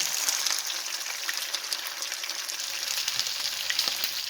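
Shrimp fry in a hot pan with a steady, close, crackling sizzle and scattered pops throughout, no voices.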